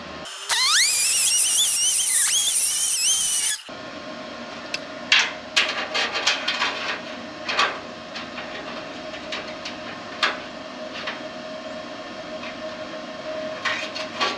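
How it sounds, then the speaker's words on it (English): A grinder screeches loudly for about three seconds as it opens up metal on a Firebird fender, its pitch wavering. Then it stops, leaving light tapping and clinks over a steady background hum. "take the grinder and open this up a little bit"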